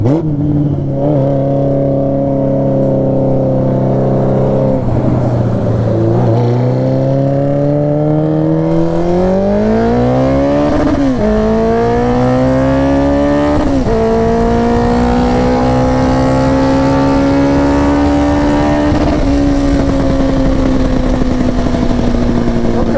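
A Honda Nighthawk CB750 motorcycle running on carb cleaner, its engine heard close and loud, idling and then revved up and down several times in long sweeping rises and falls, with no talking.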